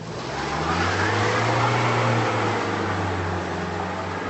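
Front-wheel drive Jaguar X-Type engine revving steadily while straining up an icy slope, a continuous droning hum held close and loud throughout.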